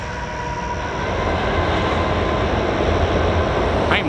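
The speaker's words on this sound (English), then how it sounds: "I think we might have another train coming." A train rumbles past, a broad steady roar that grows slightly louder, with no voices.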